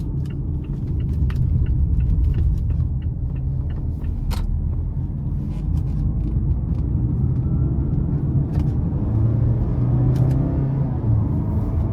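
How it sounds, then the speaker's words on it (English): Steady low engine and road rumble from a 2017 Mazda CX-5 Touring with the 2.5 engine, driven in sport mode on a back road; continuous and fairly loud throughout, with a few faint clicks and no talking. "I'm gonna put it into sport mode now. I'm gonna hit this back road, see how it handles."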